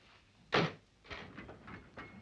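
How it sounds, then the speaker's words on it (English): A door is shut in a cold room in a 1957 mystery film: one sharp, fairly close thud, followed by a few softer knocks and shuffling against a quiet background. "Come in and shut the door."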